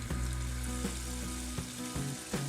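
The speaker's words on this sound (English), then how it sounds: "Now in with small spoonfuls of fritter batter, or you could just make them whichever size you like" Spoonfuls of Jamaican-style saltfish fritter batter sizzle steadily in hot cooking oil, a close, continuous frying hiss with soft pops and crackles and no talking.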